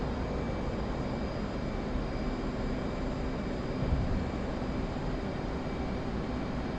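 An F-15E jet in the DCS flight simulator climbing after takeoff, its engines a steady, loud, unbroken roar with no voices over it.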